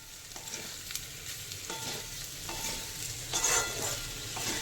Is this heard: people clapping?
no